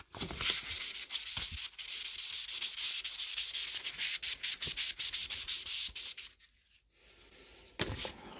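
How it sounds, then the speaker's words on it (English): Wet sanding with 1000 grit sandpaper on a part of a 1950s Toshiba index typewriter, close rhythmic scratchy back-and-forth strokes that stop briefly and then resume. "Let me do a quick wet sand with 1000 grit and see how it does."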